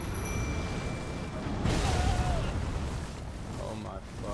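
A cannon booms in the action game Elden Ring, a heavy blast landing mid-clip amid loud continuous game noise and rumble, with someone talking over the action.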